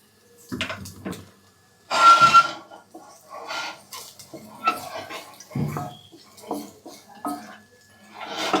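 Boiled egg fry being scooped from a pot into a bowl in a home kitchen: intermittent close clinks and scrapes of a spoon against metal and the bowl, with short pauses between.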